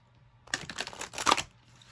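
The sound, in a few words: shuffling tarot cards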